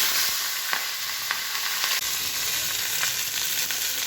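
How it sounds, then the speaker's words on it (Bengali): Fish fried piece by piece in hot oil, giving a steady, close crackling sizzle with scattered sharp pops throughout and no talking. "মাছগুলো আমি এক একে ভেজে নিই।"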